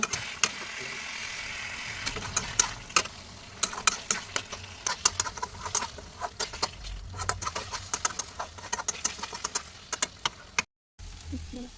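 Mushroom curry sautéing in a pan with garam masala, dried chilli and coriander powders, a steady close sizzle broken by sharp spatula scrapes and taps against the pan, briefly cut off near the end.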